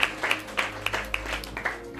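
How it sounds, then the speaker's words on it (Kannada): A church congregation claps in a brief, fairly quiet burst of scattered, uneven hand claps heard at a distance. "ಚಪ್ಪಾಳೆ"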